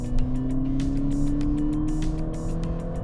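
A car engine pulling in third gear at around 45 mph, heard from inside the cabin as a steady, rising drone that climbs smoothly in pitch, with light ticking and clicking sounds over it and no talking.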